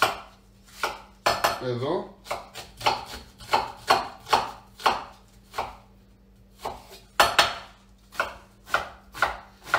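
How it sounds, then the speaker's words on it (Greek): An onion is finely chopped with a knife on a cutting board in a home kitchen, producing a rapid run of sharp, close, rhythmic knocks. A single brief spoken word comes early, along with one scraping sound. "ψιλοκόβουμε το κρεμμύδι"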